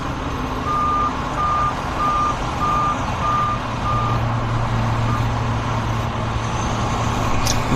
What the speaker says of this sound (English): We've got a truck here making a U-turn right in front of the camera